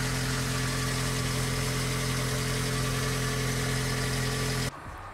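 Vauxhall Corsa C petrol engine idling steadily after a fuel filter change, a continuous close, even hum that cuts off abruptly near the end, leaving a quieter background.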